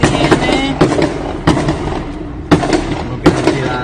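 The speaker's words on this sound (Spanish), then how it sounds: "¿Cómo le pasan los balazos" Sharp gunshot bursts fired at surveillance cameras on a street in Culiacán, several loud cracks spaced irregularly over a noisy background with faint voices.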